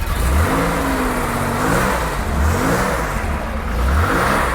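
An air-cooled 1968 Porsche 911 engine revs hard and close, rising and falling in pitch through a few strong throttle blips with a deep mechanical growl.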